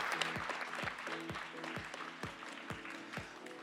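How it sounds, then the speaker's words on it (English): Audience applause at a Tokyo city-tech pitch event follows a company presentation, a steady, fairly faint wash of clapping with background voices and a recurring low rhythmic beat, like event music, running beneath. "Another round of applause."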